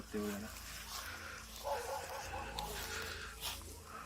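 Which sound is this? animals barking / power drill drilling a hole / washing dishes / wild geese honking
animals barking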